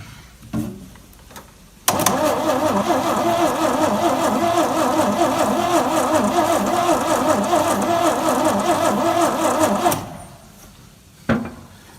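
A Chevy 250 inline six-cylinder engine with a newly fitted distributor rotor cranks hard on the starter for about eight seconds without catching, a loud, steady churning whir that starts and stops sharply, with faint clatter around it.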